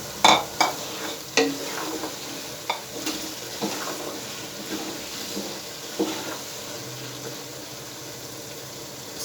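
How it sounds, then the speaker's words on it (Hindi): Peas, small cubed potatoes and tomatoes are stirred in a pan, with a few sharp spoon scrapes and clinks at the start, then softer stirring over a low, steady sizzle. "इसके अंदर आप आधा किलो मटर और 2-1 आलू छोटे साइज के, इनको आप क्यूब में काट लें, इसमें हम ऐड कर रहे हैं।"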